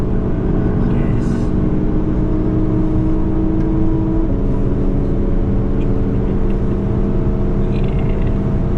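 Race car engine accelerating on the Nürburgring, a loud sustained drone with steady harmonic tones that shift slightly partway through, under wind and road roar, continuous and close throughout.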